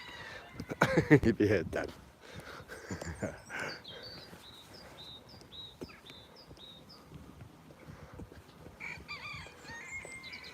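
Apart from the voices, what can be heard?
rooster crowing weakly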